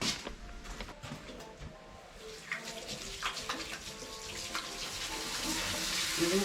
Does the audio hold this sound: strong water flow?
yes